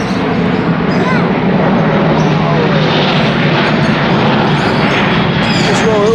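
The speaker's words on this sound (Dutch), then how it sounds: "Er komt weer een vliegtuig aan." An airplane roars overhead at a zoo in a loud, continuous drone that fills the whole stretch, with faint voices and birds mixed underneath.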